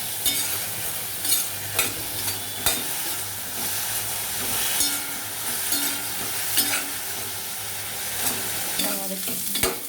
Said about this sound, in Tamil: நல்லா கோல்டன் ப்ரௌன் ஆகிற வரைக்கும் நல்லா வதக்கி விட்டுருங்க காய்ஸ்.